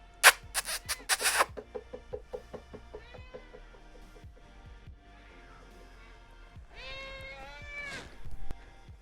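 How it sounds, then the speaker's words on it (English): A pet cat meows repeatedly near the listener, a series of short calls followed by longer drawn-out plaintive meows, with faint tapping in a quiet room. "That's my cat, by the way."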